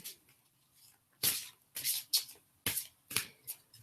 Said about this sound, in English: you can start shuffling your cards